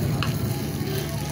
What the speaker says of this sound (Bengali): দেখো আমি ভেজে নিচ্ছি।